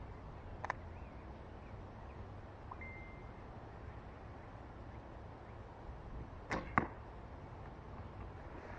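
Arrow loosed from a cheap $14 bow bought on Wish, heard outdoors as a brief sharp snap, followed later by a pair of quick impact thuds against a steady low background hiss.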